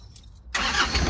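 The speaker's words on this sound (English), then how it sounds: "Start your car." A car engine cranks and catches during a driving lesson on a hill incline, starting suddenly after a quiet moment and settling into a loud, steady idle close by.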